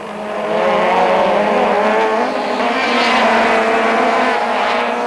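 Touring cars race through the AA Kink at Kyalami in 1997, with loud, sustained engine roars from several cars sweeping past close by and overlapping in a continuous howl.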